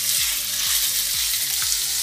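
Garlic frying in a pan makes a loud, dense, continuous sizzle, steady throughout with no talking.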